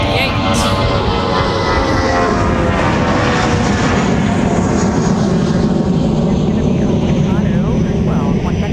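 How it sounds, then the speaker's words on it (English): Airliner departing an airport runway toward Chicago O'Hare, a loud continuous engine roar that fills the whole stretch with steady broadband rumble and shifting whine, close and powerful throughout. "Another departure headed down to Chicago O'Hare."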